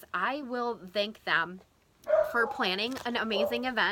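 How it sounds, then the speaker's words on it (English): A dog barks in the background of a home, half-buried under continuous close talking that runs through most of the clip. "Sorry about my dog barking in the background."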